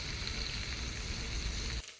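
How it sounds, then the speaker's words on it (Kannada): Onion frying in oil with pepper and cumin, a dense, steady close sizzle that stays even throughout and drops off abruptly at the very end. "ಆನಿಯನ್ ಚೆನ್ನಾಗಿ ಫ್ರೈ ಆಗಿದೆ"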